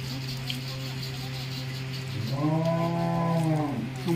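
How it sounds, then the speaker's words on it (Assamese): A cow gives one long, loud moo partway through, rising and falling over about a second and a half, with a steady low hum running underneath the whole time. "চাওকচোন কি ধুনীয়াকৈ গৰুটোৱে পাতি দিছে"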